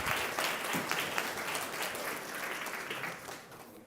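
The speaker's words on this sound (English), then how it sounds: "please give her a round of applause as she joins the stage" Audience applause for a speaker joining the stage at a food access and healthy eating event in North Carolina, a steady wash of many hands clapping that holds throughout and fades slightly at the end.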